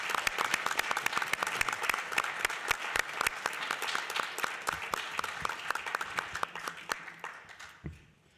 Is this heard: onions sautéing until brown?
no